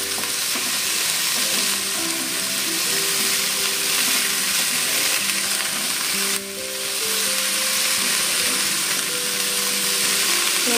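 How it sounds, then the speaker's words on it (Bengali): Loud, continuous sizzling of figs and potatoes frying in a pan, with occasional scraping as it is stirred; no voices. "ডুমুর আর আলুটা দিয়ে এটাকে একটু নাড়বো"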